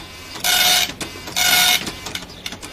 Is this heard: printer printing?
yes